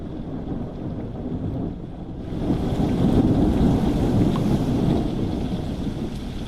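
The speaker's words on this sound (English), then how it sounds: "That rain is so loud." Heavy rain pours in the video game Sunset Motel, a dense continuous roar that swells louder partway through and holds steady, with no talking over it.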